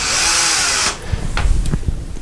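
A power drill runs steadily into drywall to make a hole for a molly anchor, loud and close for nearly a second before cutting off, followed by a few light knocks and handling sounds.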